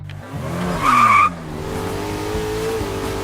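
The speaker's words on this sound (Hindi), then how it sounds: "गाड़ी लेकर भाग रहा है" A cartoon car speeds away with a loud engine roar and a short shrill tire screech, the motor note holding on steadily afterward.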